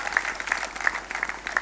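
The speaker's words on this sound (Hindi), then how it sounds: "आप इनका भी अपने परिवार में स्वागत करें जोरदार तालियों के साथ।" Applause from the audience at a kavi sammelan poetry gathering, a steady wash of many hands clapping with a few sharper claps standing out, fairly even through the short stretch.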